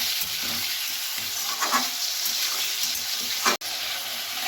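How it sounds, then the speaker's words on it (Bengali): Chicken pieces fry in hot oil with a steady, close sizzle and occasional stirring scrapes, continuous throughout with a brief dip near the end; no one speaks. "বেশিক্ষণ ভাজার একেবারেই দরকার নেই, বেশ একটুখানি সময় ধরে ভেজে নিলেই হয়ে যাবে।"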